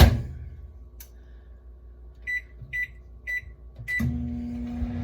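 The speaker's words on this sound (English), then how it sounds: "We'll put this back in the microwave for 30 seconds." Steady low hum of a microwave oven running, with a few short high beeps near the middle and a clunk before the hum deepens.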